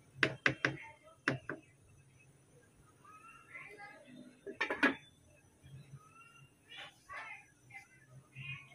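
Metal spoon clanks and scrapes against a cooking pot while bhuna khichuri is stirred, in sharp irregular bursts with softer clinks between, close by in a quiet kitchen.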